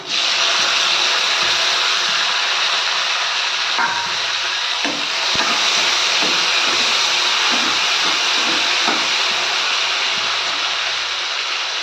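Tomatoes dropped into hot oil with golden-fried onions for a South Indian kuzhambu, a loud, steady sizzle and hiss throughout, with faint stirring clinks partway through.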